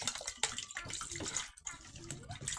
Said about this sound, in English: So let's fill this up with some water.